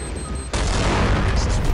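A bomb explodes in a Counter-Strike match, a sudden loud broadband blast that stays dense and roaring through the rest of the moment, over earlier quieter game ambience.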